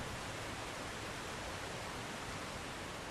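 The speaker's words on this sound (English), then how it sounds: "I forgot how loud these waterfalls were" A loud video-game waterfall in Conan Exiles, in the frozen north, roars as a dense, steady rush of falling water with no breaks or voices.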